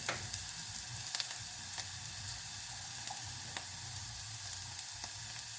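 Onions frying in a pan over low to medium heat, a steady soft sizzle with small crackles and pops throughout, close and alone.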